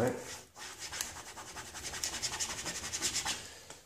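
Vinyl decal for a Subaru badge overlay being burnished by rubbing, a steady scratchy friction that swells into repeated quick strokes toward the end, close and fairly quiet.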